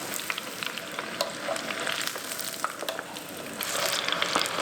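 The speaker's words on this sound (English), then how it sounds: "We're gonna fry it in the oil of your choice." Chicken tenders fry in vegetable oil with a steady, close sizzle full of small crackles and pops, growing slightly louder toward the end, and no talking over it.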